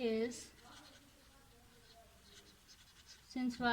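Pen or marker scratching steadily across paper or a board while a math equation is written by hand, a soft continuous scrape between stretches of talk at the start and end.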